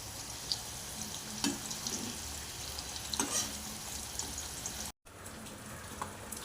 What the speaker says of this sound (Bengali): কুমড়োটা ভাজা হচ্ছে